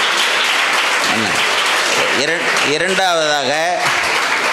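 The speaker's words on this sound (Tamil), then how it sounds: "அவங்களுக்கு கைத்தட்டுறது நல்ல தட்டுங்க" Applause from an audience at a Diwali celebration and welfare event held by a charity, steady broadband clapping throughout, with a voice speaking over it partway through.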